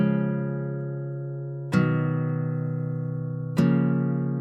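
Dry ambient guitar loop built in FL Studio with no effects: sustained chords struck three times, each attack ringing out and slowly fading, clean and close with no voice present.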